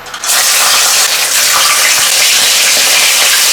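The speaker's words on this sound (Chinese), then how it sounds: "我们用小火慢慢的炸" Small fish deep-frying in a little oil over low heat, a loud, close, continuous crackling sizzle that swells right after the fish go in and then holds steady.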